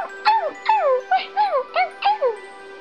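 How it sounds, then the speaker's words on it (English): A dog whimpers and yips in six high, whining cries that bend downward, coming in quick succession, close and clear with no other sound around them. "Such a nice dog."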